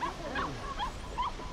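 A dog in The Cave video game lets out a few short, high yelping barks and whimpers in quick succession over a steady background hiss, fairly close and moderately loud.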